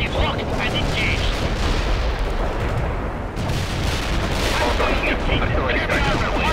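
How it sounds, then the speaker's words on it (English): Heavy armor opens fire in the World in Conflict war game, a dense, continuous barrage of booming cannon and gunfire blasts rolling together with barely a pause, loud and close throughout. "Heavy armor firing at the enemy."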